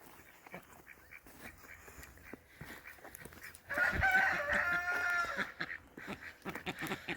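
A rooster crows loudly partway through at a North Idaho off-grid homestead, near the chicken coop and ducks, with quieter clucking and soft fowl noises before and after the crow.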